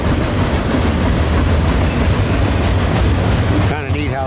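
An intermodal freight train with tank containers rolls past at close range under a bridge, a dense continuous roar of wheels and cars, with a brief tonal squeal near the end.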